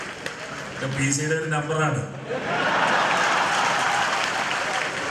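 Someone speaks at first, then a crowd at a public reception for P. P. Thankachan's 75th birthday in Perumbavoor bursts into dense, sustained applause that fills the rest of the moment.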